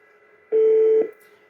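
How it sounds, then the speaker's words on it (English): A Fanvil X6U SIP desk phone goes off hook when its paging button is pressed, giving a single loud, steady electronic tone lasting about half a second before it cuts off. "if we push this paging button, what's going to happen is the phone will go off hook, and we can record a message"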